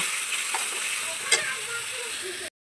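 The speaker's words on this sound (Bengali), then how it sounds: "দেখো আলুটা দিয়ে একটু কষিয়ে নেব" Potatoes sauté in spice paste in a pan, making a close, steady sizzle with a few scraping stirs, then cutting off abruptly near the end.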